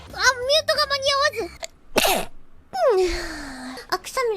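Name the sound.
sneeze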